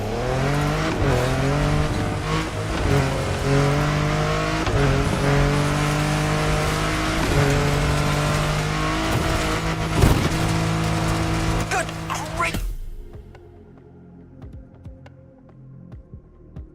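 A car in The Crew Motorfest races downhill at full speed, its engine droning loud and steady with rising and falling gear pitches for about twelve seconds before cutting away to near silence.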